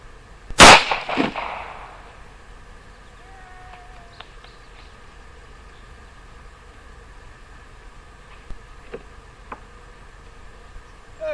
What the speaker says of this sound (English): This is a Sig Sauer 380